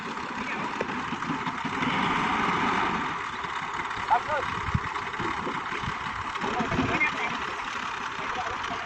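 An old model 265 tractor engine idles at a road construction site with a steady, rumbling mechanical drone, partly under someone talking nearby and some scattered clatter.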